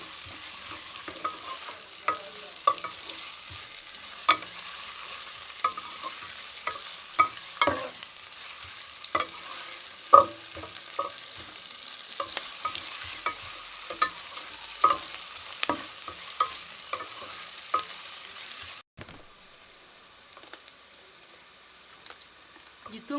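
Onions frying in a pan for a rice dish crackle steadily, with frequent light spoon clicks and stirring scrapes. The sizzle cuts out near the end, leaving a quiet room.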